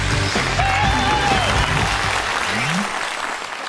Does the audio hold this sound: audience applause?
yes